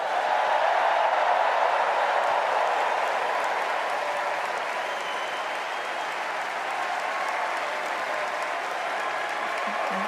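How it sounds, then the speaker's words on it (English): A large crowd at the 2024 Democratic National Convention applauds loudly and continuously, a dense steady wash of clapping that eases slightly toward the end. "Let's give a special round of applause to our First Lady, Jill Biden."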